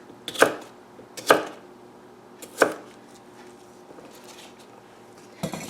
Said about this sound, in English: I'm just going to slice it probably, I don't know, 3/8 of an inch, sort of thick slices